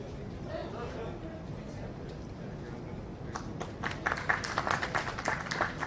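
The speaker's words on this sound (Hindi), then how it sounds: "जोरदार तालियां आप सबकी तरफ से होती रहनी चाहिए" Audience clapping at a Haryana ceremony where family identity cards are handed out, rising from a murmur into a denser burst of hand claps over the last couple of seconds, with background voices underneath.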